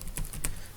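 A few quick keystrokes on a computer keyboard, close and light, in a brief burst of clicks.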